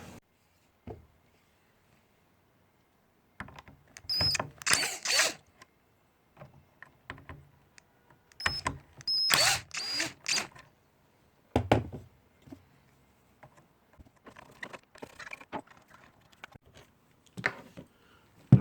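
Screws being removed from the top of a small paddle inductive EV charger, probably with a power drill: several short, close whirring bursts separated by quiet gaps and faint handling taps, with no talk.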